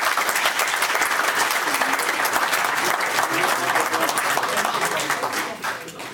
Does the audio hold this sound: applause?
yes